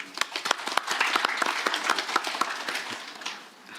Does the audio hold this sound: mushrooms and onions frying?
no